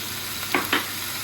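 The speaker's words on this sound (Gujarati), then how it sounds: "હવે હું એમાં બધા બોઇલ કરેલા વેજીટેબલ્સ નાખી દઈશ. સ્વીટ કોર્ન છે, બ્રોકોલી છે" Boiled sweet corn, broccoli and peas tipped into a hot pan, two quick soft splashy sizzles close together over a steady faint frying hiss.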